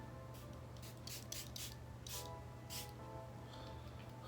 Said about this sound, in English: So I'm gonna set one more time. Give myself a quick spray again.